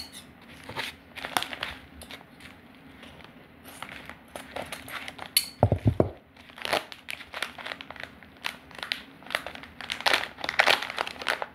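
A beauty and health product package from Noon Sheppu is opened by hand, with irregular crinkling, rustling and tearing of plastic wrapping, close up and without talking.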